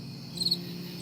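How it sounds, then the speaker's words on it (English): Crickets chirp as a comic sound effect, a steady high trill that rises slightly in the middle, moderately loud over a low background hum, with no one speaking. "Crickets."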